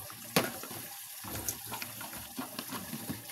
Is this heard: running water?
yes